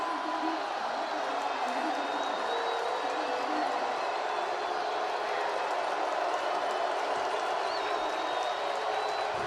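Football stadium crowd at a Georgia Southern vs ODU FCS playoff game roars in a dense, continuous wash of cheering and applause, with a commentator talking over it.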